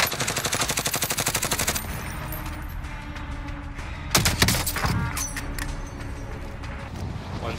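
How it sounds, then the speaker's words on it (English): Rapid automatic gunfire rattles in a shooting video game, a steady fast burst at first, then scattered louder shots and metallic clinks over constant background noise. "Someone shooting on me."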